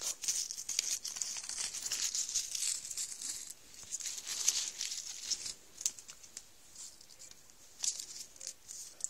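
Packaging is folded back up by hand, producing continuous close crinkling and crackling with bursts of sharp papery rustles and short pauses, fairly quiet and without talk.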